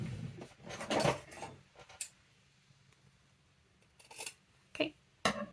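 Scissors cut fabric to size for a Christmas junk journal cover: a few crisp snips and clicks, with a cluster of cuts near the start and sharper isolated snips later, close and fairly quiet.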